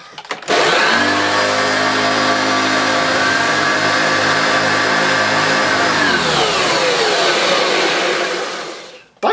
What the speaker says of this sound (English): Mine is slightly quieter in operation, but has a much smoother wind down.